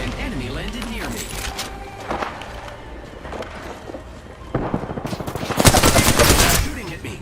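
Video game gunfire rattles in quick automatic bursts amid footsteps and game sounds, building to a dense, loud volley near the end, with voice chatter heard underneath.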